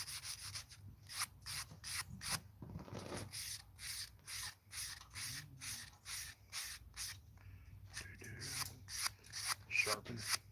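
Nail file rasping back and forth on green wood being shaped for a spoon, a steady rhythmic scraping of quick strokes, faint and close, with soft voices briefly under it.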